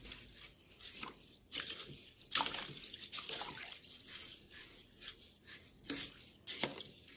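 A spoon stirs a thick dark sugar and soy sauce mixture for Korean yaksik, giving soft, wet, sticky scraping strokes in an irregular rhythm, close and fairly quiet.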